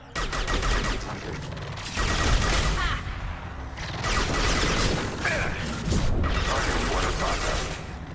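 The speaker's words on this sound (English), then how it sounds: "Switch back to the submachine gun" Submachine gun fire in the sci-fi shooter Mass Effect 2 comes in several loud rapid bursts separated by short pauses, with crackling impacts and other combat noise between them.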